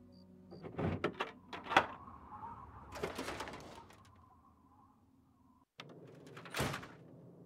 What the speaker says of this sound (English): Let me unlock the door for you.